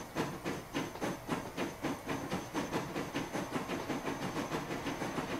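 In the Transport Fever game, a steam locomotive pulls away, its exhaust chuffing in a steady rhythm with soft hiss, quiet and mid-distance, with no voices.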